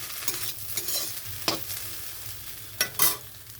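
Fried potato, radish and shrimp being stirred in a pan, with a steady sizzle under a few sharp scraping strokes of the spatula, close and alone.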